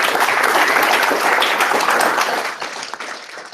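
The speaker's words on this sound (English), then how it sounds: "Round of applause." A tech meetup audience applauds at the end of a talk, a full burst of clapping that tapers off into scattered claps.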